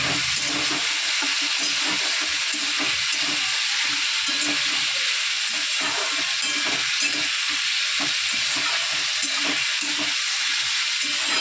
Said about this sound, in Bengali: তো আলুটা ভেজে নিয়ে তারপরে আজকে আমি খুব ছ্যাঁকা খাচ্ছি, গরম তেল ফুটে আসছে